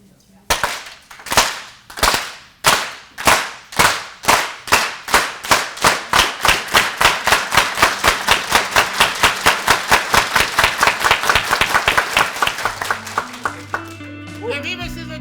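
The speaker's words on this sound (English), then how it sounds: "Can you teach everybody the farm workers clap?" A luncheon crowd at a Cesar Chavez legacy event performs the farm workers clap in unison, starting with slow, sharp, evenly spaced claps that steadily speed up into a rapid, continuous clatter.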